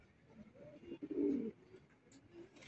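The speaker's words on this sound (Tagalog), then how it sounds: "Ayun yung kalapati natin, ayun oh." A racing pigeon coos at its loft, a soft low burbling call rising briefly in the middle, faint and set against quiet outdoor background.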